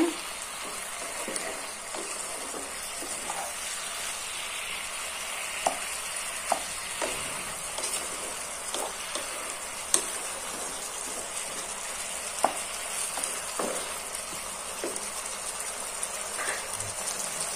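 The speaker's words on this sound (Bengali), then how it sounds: "কুলটা ভালো করে মিক্স করে নেব।" Jujube (kul) pickle mixture being stirred in a pan, soft wet scraping and clicking strokes at an irregular pace over a faint continuous hiss, close and quiet, with no talking.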